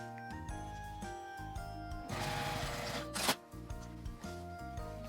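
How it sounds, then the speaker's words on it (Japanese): A sewing machine stitches the zipper edge of a fabric pouch with a steady, humming mechanical whir that runs on and off in short bursts. It is close and fairly quiet, with a small rattle midway and no talking. "ファスナーはずらして 端は折り上げて縫います。"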